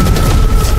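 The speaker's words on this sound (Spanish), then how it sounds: "Una andanada de disparos levantó un surco de surtidores de polvo en el roco cemento del suelo, y Oz Istakar volvió a retroceder" A brief, loud, booming burst of rapid gunfire, a volley of shots played as a sound effect.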